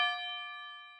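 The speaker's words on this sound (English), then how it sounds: "We have this bell coming in." A single bright bell strike from the chorus of a song rings out and slowly decays, clear and alone.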